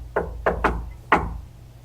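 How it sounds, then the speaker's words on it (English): Four hollow knocks on a residential wall during a house investigation, sharp and close, in an uneven rhythm over a low background hum, with no voices. "Okay, I'm going to knock in here."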